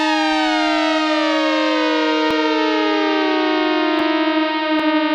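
Oscillators on a Casio XW-G1 synthesizer, tuned separately from each other, sustain a loud bright harmonic tone whose pitch slowly glides downward, with faint clicks and no talking.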